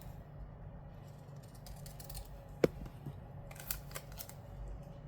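A planner sticker being trimmed with scissors, heard as one sharp close snip midway and a couple of lighter cuts and paper rustles afterward, quiet, with no talking.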